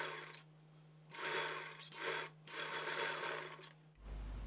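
Sewing machine stitching the front panel of a blouse, running in several bursts of fast rasping stitches separated by short pauses, close and steady, with a constant motor hum underneath.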